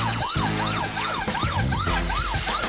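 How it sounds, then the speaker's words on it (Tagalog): A vehicle siren wails loud and close, its pitch rising and falling in steady repeated cycles over continuous traffic rumble, with no speech. "Ano mga dapat gawin kapag nagdadrive ka at may wangwang"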